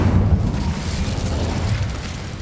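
Incendio fire spell cast in the video game Hogwarts Legacy, a low rumbling burst of flame that sustains briefly and fades, heard alone.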